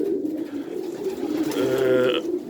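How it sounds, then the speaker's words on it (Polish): Soft, low cooing from two pied pigeons close by, a steady murmur with a brief rolling coo near the end. "Są to te obydwa pstre gołębie"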